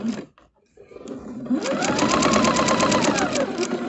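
A sewing machine stitches quilt pieces along a quarter-inch seam, starting after a brief pause and handling noise, then running in a steady, rapid, close mechanical rhythm to the end.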